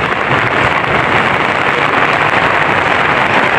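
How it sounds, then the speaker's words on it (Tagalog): Heavy rain falls steadily outdoors beside the Marikina River, a loud, dense and unbroken hiss of downpour with no voices. "Malakas pa rin ang ulan ngayon."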